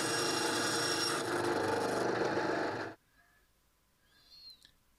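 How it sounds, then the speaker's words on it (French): A small band saw cuts through a wooden part, the base and cap of a knob for a DIY Bluetooth speaker, giving a loud steady buzzing rasp for about three seconds before it stops abruptly and only faint quiet noises remain. "on retourne la petite scie à ruban et on découpe donc la base"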